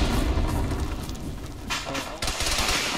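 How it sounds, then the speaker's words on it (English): A frag grenade blast in a combat video game, a heavy booming explosion amid sustained gunfire, loud throughout with a sharper burst partway through. "That is a hell of a frag."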